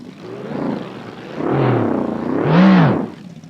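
An aircraft engine idles close by, its droning hum swelling and easing in pitch in three slow surges that grow louder toward the end, with no voices over it.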